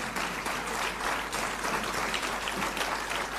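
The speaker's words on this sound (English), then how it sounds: "we give them the biggest round of applause" Audience at a BRICS vocational education forum seminar applauding, a full, even wash of clapping that carries on steadily without a break.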